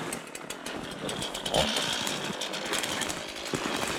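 A Stihl MS 260 chainsaw roars steadily nearby cutting wood, with a harsh, buzzing whine and slight shifts in pitch as it works.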